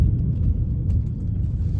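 A BMW M340, Audi S4 or Mercedes C450 engine under way, a steady low rumble heard from inside the cabin, muffled and continuous without speech.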